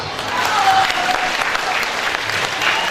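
Sustained applause from an audience at a 21st anniversary event, a dense steady patter of many hands clapping together for about three seconds.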